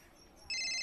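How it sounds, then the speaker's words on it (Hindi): A phone ringtone suddenly starts halfway through, a bright electronic tone ringing steadily and clearly over faint background hiss. "मेरा फोन बज रहा है, निकालो तो।"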